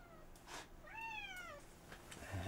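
Cats meowing in an arcade-style race game, with a clear rising and falling synthesized meow standing out over a steady background hum, plus a few fainter mews around it.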